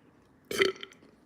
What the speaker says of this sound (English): What do you want me to burp for?